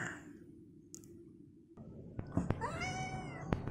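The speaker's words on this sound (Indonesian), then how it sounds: "kucing putih bermata biru yang sering menemani Katina" A white blue-eyed cat meows several times in quick succession, close and clear, with a few soft clicks and a low background hum.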